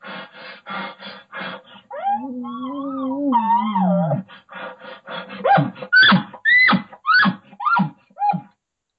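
A voice imitates bull elk calls: breathy huffs, a long wavering high moan, then a series of short rising yelps and grunts, close and fairly loud.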